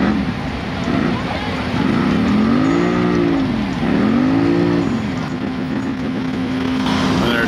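A Honda Pioneer UTV in a muddy medium tire pit, its engine revving up and down in long swooping surges beneath a crowd and a commentator's voice, with wind noise outdoors.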